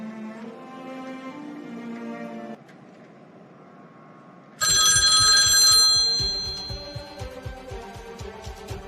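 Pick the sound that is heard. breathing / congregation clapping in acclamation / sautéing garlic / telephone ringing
telephone ringing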